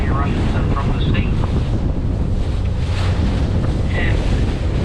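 Strong wind gusts over the sea, a loud, constant broadband roar of wind buffeting with waves and water noise underneath, a faint voice briefly audible.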